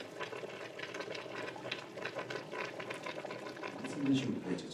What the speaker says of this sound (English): She's gonna steam it one more time.